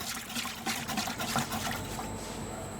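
Warm water trickling and pouring into a bowl with yeast for a poolish pre-dough while croissants are being made, a steady close liquid splash that thins toward the end.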